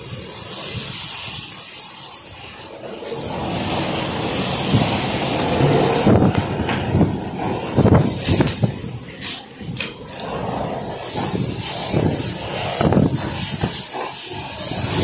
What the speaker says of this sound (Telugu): చూసారు కండి ఎలా పడుతుందో వర్షం